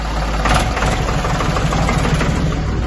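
A motorcycle engine idles close by, a steady low chugging rumble with a brief rise near the start, no voices over it.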